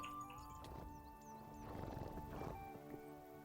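Horse in the Minecraft video game, a faint whinny with hoof-like clip-clop thuds, quiet and brief against a soft background.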